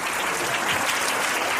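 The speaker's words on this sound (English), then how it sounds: "round of applause right now" An audience applauds a successful, iconic artist with a short, steady wash of clapping that stays even and moderately loud throughout, with no voices standing out.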